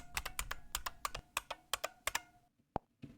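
Fingers type a password on a computer keyboard in a quick run of close, crisp key clicks, a few harder taps, then a pause and one final sharp press, with no talk.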